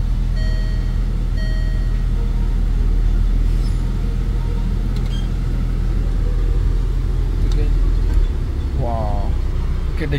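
A car engine idles and rumbles steadily during vehicle testing, a loud continuous low drone with faint beeps and brief background voices.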